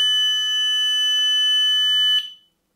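A smoke alarm's shrill, continuous electronic tone sounds steadily for about two seconds, then cuts off abruptly.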